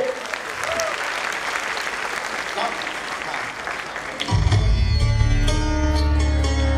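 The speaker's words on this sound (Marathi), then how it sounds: "चला एकदा जोरदार टाळ्या पाहिजे." An audience claps loudly in a burst of applause following a call for a big round of clapping at a tribute event, with some chatter and noise before the clapping swells.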